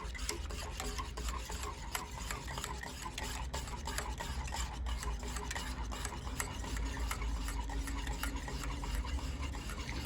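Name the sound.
whisking the butter beer mixture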